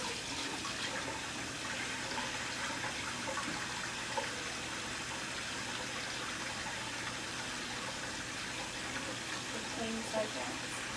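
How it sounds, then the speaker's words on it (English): Tap water runs steadily into a sink for handwashing with lukewarm water, a soft, constant hiss lasting throughout at low level. "So you said first to turn on my water?"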